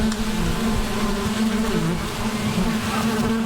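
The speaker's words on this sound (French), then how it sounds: "Une bruit des abeilles. Qui volent." Bees fly and buzz in a continuous, close drone with a steady hum that never breaks, loud and alone with no voices.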